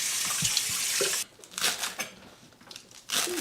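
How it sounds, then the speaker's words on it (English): A tap runs steadily into a sink as chives are rinsed for wonton filling, with the stream cutting off partway, then short splashes and crinkling handling, close up and with no talk. "So just give the chives a good wash"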